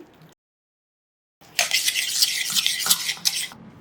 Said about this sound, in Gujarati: પાણી ગરમ થઈ જાય એટલે આમાં બે ચમચી જેટલી કોર્નફ્લાવરની સ્લરી ઉમેરવાની